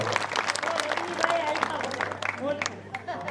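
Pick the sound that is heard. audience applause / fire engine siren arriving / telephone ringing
audience applause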